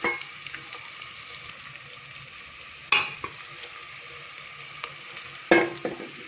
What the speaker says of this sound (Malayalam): ഇനി നമുക്ക് ഇതിലേക്ക് ബീഫ് വെന്ത് ഇട്ട് കൊടുക്കാം